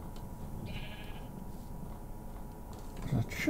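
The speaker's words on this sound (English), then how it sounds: "Hello, sheep." A sheep bleats in the video game Minecraft during survival play, a brief mid-distance call over a low steady background hum and soft game ambience.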